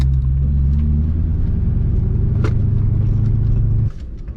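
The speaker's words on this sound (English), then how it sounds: "I'm gonna go park the car." A Chevrolet Corvette C5 at a drag strip rumbles steadily with a deep, loud, close engine note as it pulls away to park, then drops sharply in level near the end.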